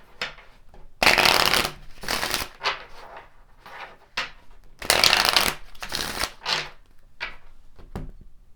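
Kipper cards being shuffled for a tarot reading, with two long bursts of riffling and several shorter flicks and taps between them, close up and with no voices.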